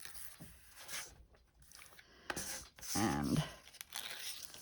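Masking tape being peeled off a handmade Navajo-style frame card gives several soft tearing and crinkling strips, faint and close, with short pauses between pulls and a brief spoken word.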